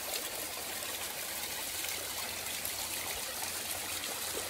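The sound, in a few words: small stream of water trickling into a pool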